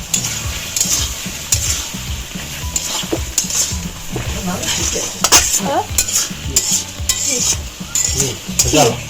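Tomato and potato sour curry is stirred in a pan with a utensil, giving steady scraping strokes over a continuous close, loud sizzle with no talking.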